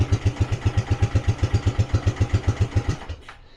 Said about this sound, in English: Might need a little more idle, to be honest. The cylinder's warm.